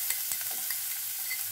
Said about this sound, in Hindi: अब इसी ऑयल में हमने जो ये लहसुन कुचल के रखा है इसे डाल देंगे।